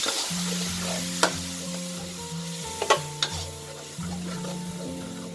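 Blended Thai green curry paste stir-frying in a pan for shrimp green curry, a steady sizzle broken by a few sharp utensil knocks, with soft tonal music running underneath.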